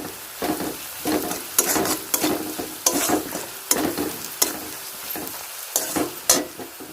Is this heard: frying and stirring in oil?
yes